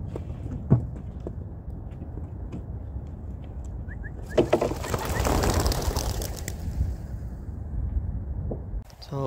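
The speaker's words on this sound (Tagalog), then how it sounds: "Bali pinakawala natin yung ibon natin" A flock of 21 racing pigeons is released for road training and flies off: a dense burst of flapping wings swells midway over steady outdoor background noise, with a few soft bird calls and faint talk nearby.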